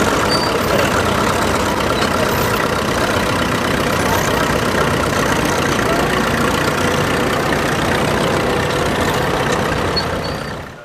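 A Fordson tractor engine runs steadily close by, a continuous loud rumbling chug that holds even throughout and cuts off abruptly at the end.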